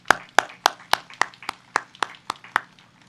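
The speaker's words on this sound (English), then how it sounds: "Let's give a round of applause for all of our candidates for Ward 1" Applause for the Ward 1 city council candidates at a municipal election candidate forum: about a dozen sharp, evenly spaced claps over three seconds, close and clear with no talking.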